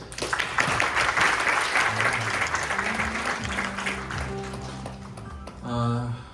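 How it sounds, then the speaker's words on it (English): Audience applause at an academic conference session on sparse accelerators, a broad wash of clapping that fades as a voice speaks over it near the end. "Let's give her another big round of applause"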